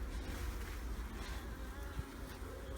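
Honeybees hum during a hive inspection, their faint but steady buzzing swarm filling the air close by without any voices.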